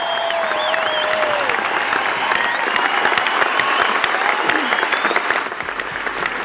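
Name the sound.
audience applause at the Roger Federer and Friends Night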